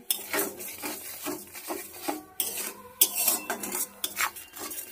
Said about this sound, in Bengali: এবার ভালো করে কষিয়ে নেব মশলাটা।